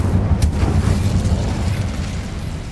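A fire spell is cast in a magic video game, bursting out as a low, rumbling whoosh with a brief sharp crack near the start, followed by a sustained roaring blaze that slowly fades.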